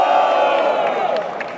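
Rap battle audience at a freestyle semi-final, a loud crowd roaring, cheering and shouting all at once in a brief close burst that eases slightly toward the end.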